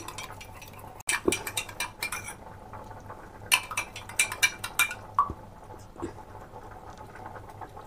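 An egg is beaten in a bowl while making chicken vegetable soup: quiet, quick clinks and taps come in irregular clusters with short pauses, over a faint low hum.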